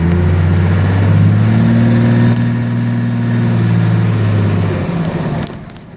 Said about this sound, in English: Here's the nice turbo whistle it has now.